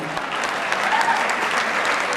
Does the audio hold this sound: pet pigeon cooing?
no